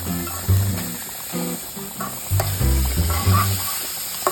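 Tuna fish curry bubbles and sizzles in a pan on the stove as it reduces, a steady close crackling hiss with occasional stirring and no talk.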